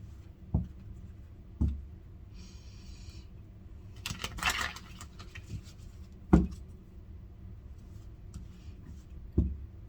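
Tarot cards being shuffled during a reading, heard as a few sharp, separate taps and riffling bursts spread across a quiet background, with a brief flurry of card noise near the middle.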